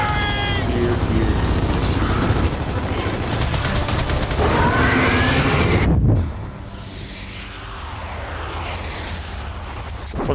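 Sustained bursts of video game gunfire from Gears of War played on Xbox, loud and dense for about six seconds, then dropping to a quieter rumble of battle, with players talking over it.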